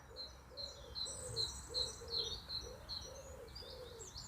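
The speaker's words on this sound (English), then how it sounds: "I can hear a bird." A bird sings in a garden, repeating short high chirps at a steady rhythm over a quiet, low outdoor hum with a faint, distant road.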